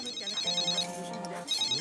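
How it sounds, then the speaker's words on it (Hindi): A telephone ringtone chirps in repeated electronic bursts with a short gap in the middle, loud and close, while people talk over it. "फोन उठाओ।"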